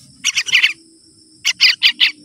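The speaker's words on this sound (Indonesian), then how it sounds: "di video kali ini saya bakalan mengasih anakan burung ini makan" Baby yellow-vented bulbul chicks being hand-fed, close, loud, high chirps in two quick bursts of about four calls each, separated by a short pause.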